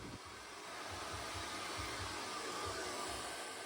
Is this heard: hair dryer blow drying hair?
yes